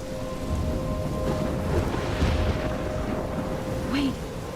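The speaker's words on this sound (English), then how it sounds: "I'm trapped in a storm?" Steady rain hisses under a thunderstorm in the video game Life is Strange, with low rumbling thunder swelling in the background and faint tonal game sounds drifting over the downpour.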